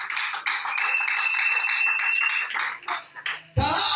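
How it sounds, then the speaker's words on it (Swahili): Church congregation at a Wednesday midweek service in Mombasa claps hands for the Lord in quick, steady rhythm, bright and close, under sung or spoken voices, ending with a louder jumble of sound. "Pigie makofi Bwana."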